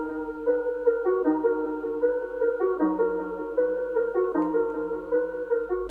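Mellow sampled melody treated with EQ, reverb, delay, halftime slowdown and a bubbly vinyl effect, sustained harmonic notes moving between chords, smooth and unbroken with no talking.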